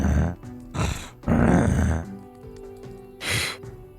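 A person imitates a light snore that sounds more like a passive growl, making several close, breathy grunting bursts separated by short pauses.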